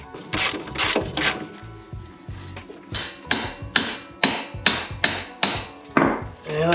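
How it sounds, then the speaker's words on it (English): Rapid clicking of a ratchet tightening the axle castle nut on a 1992-95 Honda Civic during a B-series engine swap, in quick bursts of strokes close up, with a few metallic knocks and no talking. "I figured I might as well put weight on it so I can go ahead and tighten it down all the way."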